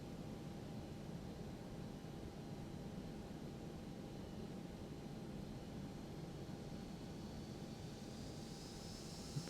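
Airliner jet engines spooling up for takeoff in X-Plane 12 on a ToLiss A319, a steady, faint broadband roar with a thin whine that rises toward the end.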